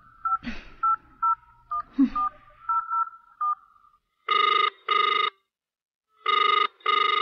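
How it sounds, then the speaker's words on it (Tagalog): A telephone number is dialed with a series of short keypad tones in an uneven rhythm, followed by two pairs of ringing bursts on the line, clear and close with no talking. "Tatawagan ko siya"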